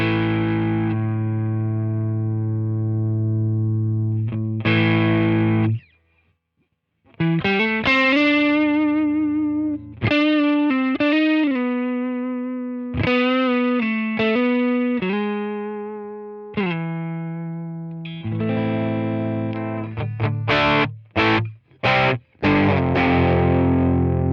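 Distorted electric guitar plays sustained notes and chords through a Friedman IR-D preamp pedal with added gain, ringing loudly with one short silent break and choppier strums near the end.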